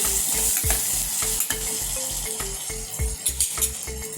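Tomatoes and onions sauté in a pan with turmeric, salt and red chili powder, giving a steady close sizzle while a spoon stirs with regular scraping clinks against the pan.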